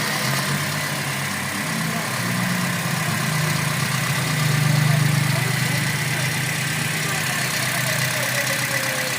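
A Toyota Vios third-generation engine idles steadily and quietly after a worn water pump bearing was replaced, a low continuous hum with a slight swell midway and no clear speech.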